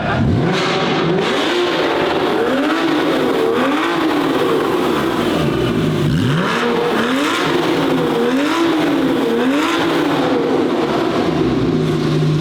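A Porsche engine revs hard over and over, rising and falling in rhythmic pulses, loud and close, with a steady rumble underneath.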